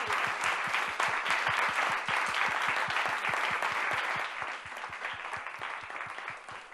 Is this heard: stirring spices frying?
no